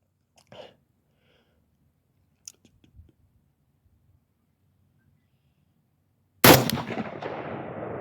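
An AR-15 rifle fires a single loud, sharp shot at 4-inch clay disks 200 yards away. A few faint clicks and handling noises come first in near silence, and the blast's echo trails off slowly.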